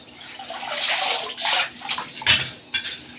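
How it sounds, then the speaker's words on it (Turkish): A punctured no-frost refrigerator freezer evaporator is dunked into water for a leak test, giving close, uneven splashing and sloshing in a few bursts with no voices. "Komple suyun içine sokuyoruz"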